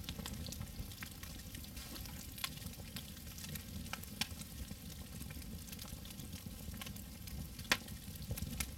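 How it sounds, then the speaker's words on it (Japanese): Meat sizzling as it grills over a fire in the SCUM survival game, a steady soft frying hiss with scattered faint pops and crackles, heard alone at low volume. "今肉焼いてるから。"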